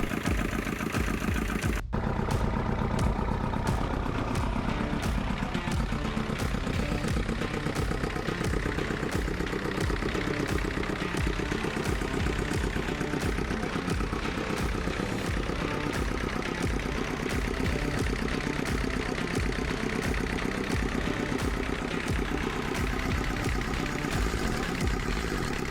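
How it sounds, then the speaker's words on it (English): A boat's inboard engine fires up and settles into a steady, loud idle, a continuous rhythmic clattering drone with regular pulses holding unchanged for over twenty seconds, with no talking. "got the engine up and running"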